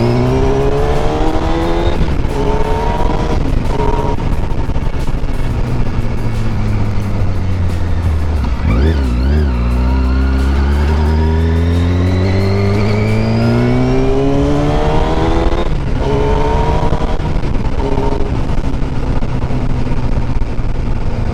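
A Yamaha R1 sport motorcycle accelerating hard with its quick shifter, loud and close. The engine climbs in rising sweeps through the revs, with rapid clipped upshifts between them and steady wind rush throughout.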